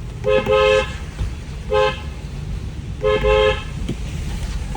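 A Maruti Baleno's car horn honks three times, two longer blasts around one short beep, over a steady hiss of rain and road noise.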